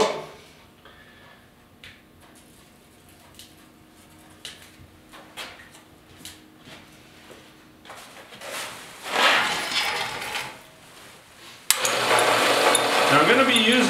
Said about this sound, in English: so I'm just going to drill it one size over 7/16